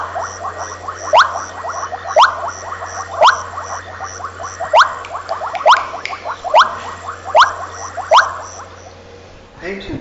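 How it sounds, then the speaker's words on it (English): A recorded call of a bubbling kassina frog, Kassina senegalensis, repeats as loud, evenly spaced bubbling pops over a steady low hum. "Bubbling casina, Casina senegalensis."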